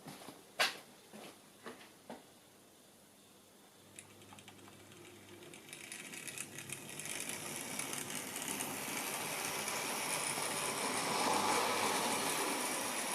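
A Hornby B12 model locomotive runs on its track with a soft whirring hum that gradually grows louder and busier. A few light clicks come early on, and the noise builds to a steady rushing whirr by the end.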